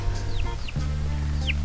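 Chickens cluck in short, close bursts, with a few high chirping peeps on top, indoors in a rural farmhouse.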